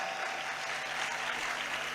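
Audience at a Jain religious discourse applauding, a steady, moderate wash of clapping that continues evenly throughout, heard from a distance in a large hall.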